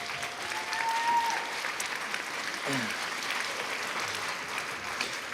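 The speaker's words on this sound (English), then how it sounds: "So round of applause for them." A modest audience at a school orchestra concert applauds a 7th grade group, a steady wash of clapping at moderate level with faint murmurs underneath.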